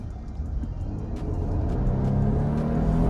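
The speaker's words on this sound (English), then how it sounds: "this twin turbo V6 pulls really well and confident all the way through the power range" A Nissan Armada Platinum Reserve full-size SUV with a twin turbo V6 accelerating, its steady engine drone rising and swelling over about three seconds, with a faint rhythmic whir and no voices.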